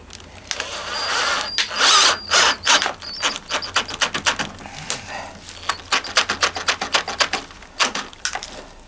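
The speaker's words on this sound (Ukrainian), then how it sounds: "Я оце викручую, потім вставляю цю пластину і закручую." A power drill or screwdriver drives screws to fix a mounting plate while Steko windows are installed on a veranda, sounding in repeated short whirring bursts with clicks and pauses, close and fairly loud.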